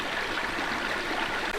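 Mountain river rushing steadily, a loud, continuous broadband wash of flowing water close by with no voices.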